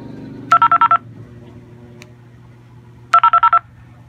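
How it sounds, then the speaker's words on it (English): Two short bursts of ANI ID DTMF tones, each a quick run of about five beeps, sent from a Baofeng dual-band radio. They sound loud and close, separated by a few seconds of low hiss and faint background noise. "when I finished the editing of the ANI code ID, this is how it sounds like after transmitting"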